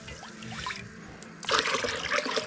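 Cold water pours into a drinker in a chicken house, a faint trickle that suddenly turns into a louder, splashy gush partway through.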